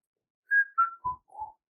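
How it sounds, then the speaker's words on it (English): A person whistles a short descending tune of four clear notes, close and fairly quiet, with no voices. "He's constantly whistling."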